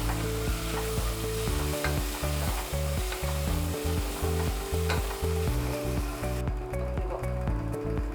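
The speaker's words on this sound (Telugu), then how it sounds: "వేగుతున్నప్పుడే కొద్దిగా కొత్తిమీర, కొద్దిగా పుదీనా వేసుకొని ఫ్రై చేసుకోవాలి" Fresh coriander and mint frying with whole spices in a pan for tomato bath, a dense continuous sizzle and crackle heard close, layered under steady tonal musical backing throughout.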